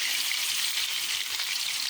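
Chicken thigh pieces, about 500 grams, hitting a hot pan for a brief sauté give off a steady, bright hiss of sizzling oil that holds evenly throughout, close and continuous with no talking.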